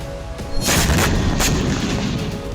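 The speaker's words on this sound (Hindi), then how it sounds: "हिजबुल्लाह ने तेल अवीव में एक के बाद एक कई विस्फोट किए" A loud burst of booming explosions erupts in Tel Aviv after a quiet start, with a couple of sharp cracks standing out over a rumbling roar.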